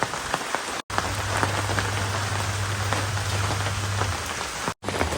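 Heavy rain pours steadily outdoors, a loud, even wash of drops striking surfaces, broken by two brief silent cuts, with a low hum beneath and no voices.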